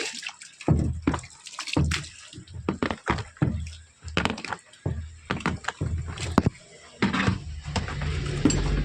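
Water splashes and pours over car window glass during cleaning, in repeated irregular bursts of sloshing and dripping that stay close and fairly loud, with brief quiet gaps between.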